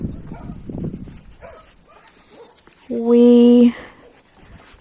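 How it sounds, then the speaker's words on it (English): Rescued quarantine dogs being moved outdoors: soft whimpering and yips mixed with a person talking, followed by a brief loud, sustained tonal whine near the end. "These babies are the quarantine dogs."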